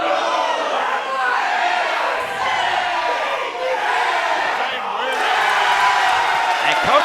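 A crowd at an independent tag team wrestling show yells and cheers continuously, a dense roar of voices that swells near the end.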